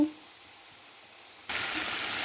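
Chicken pieces dropped into a hot pan of frying spices, garlic and ginger, giving a sudden loud hissing sizzle that swells after a quiet stretch and keeps crackling steadily to the end.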